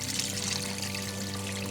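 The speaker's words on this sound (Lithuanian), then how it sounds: "dabar man reikia dar šiek tiek vandens," Water pours steadily into a metal pot over meat, a continuous close splashing stream for under two seconds.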